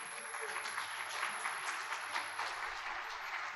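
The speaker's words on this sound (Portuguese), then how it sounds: "Você quer aplaudir Cristo agora ou depois?" A church congregation breaks into applause, a dense, even patter of many hands that fills the sanctuary for a few seconds, heard fairly softly and without speech on top.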